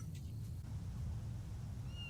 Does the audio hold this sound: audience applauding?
no